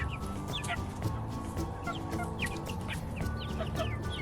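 Soft, repeated chicken clucks and chirpy peeps sound close by over a constant low background hum, with no talking.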